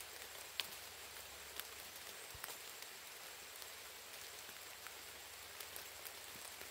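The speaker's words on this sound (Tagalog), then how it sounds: "Grabe ng ulan." Rain pours down in a dense, unbroken hiss, with scattered heavier drops knocking close by.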